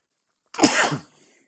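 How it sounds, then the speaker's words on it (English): One abrupt, loud sneeze close by, a burst of breath that quickly fades into silence. "pardon me here, sneeze."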